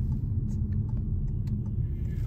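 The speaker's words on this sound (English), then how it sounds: "Oh, there's too many cars." Car traffic passing on the road makes a continuous low rumble that stays steady and fairly loud, with faint hiss and small bumps over the top and no talking.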